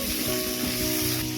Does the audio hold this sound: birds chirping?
no